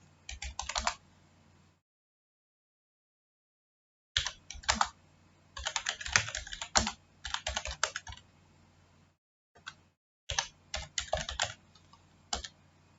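Typing on a computer keyboard while installing packages on a CentOS 7 server: bursts of rapid, close key clicks separated by short silent pauses, heard alone with no talk.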